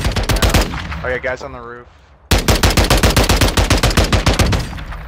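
Rapid, loud shotgun fire in Warzone 2, a dense string of sharp blasts before a brief lull and another long, steady burst, with a player's voice talking over the first part.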